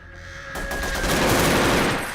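AK rifle fire in a Doom mod video game: a loud, sustained burst of rapid automatic shots that runs unbroken for about two seconds.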